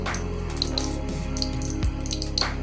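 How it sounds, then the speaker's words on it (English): Tap water pours into the top of a Super 8 film developing tank during home processing, a continuous close-up stream with small gurgles and splashes throughout. "the water is coming out of the tap into the top of the tank, and it's actually going down"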